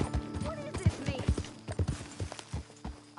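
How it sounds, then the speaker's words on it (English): A horse walks through a camp in a video game, its hooves clip-clopping in a quick uneven rhythm close by, with voices talking over the steps. "you know you're not supposed to have that horse in camp"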